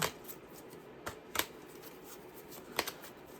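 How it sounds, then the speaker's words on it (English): A deck of tarot cards being shuffled, soft papery riffling with a few sharp snaps, quiet and close. "we're going to shuffle and we're going to see what comes out"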